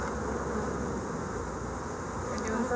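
Honey bees at a hive with queen cells hum in a dense, steady drone close to the ear, continuous and even with no pauses.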